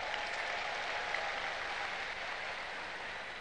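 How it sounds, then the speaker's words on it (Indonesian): Steady, dense applause from a large audience at an Indonesian political speech during a PKS anniversary event, a continuous wash of clapping with no voices on top. "boleh beri tepuk tangan kepada mereka"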